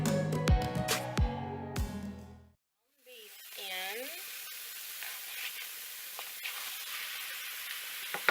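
Bell peppers sizzle and fry in a pan as they are stirred to brown, a steady close hiss with some clatter, following a brief moment of louder mixed sound and a short quiet gap.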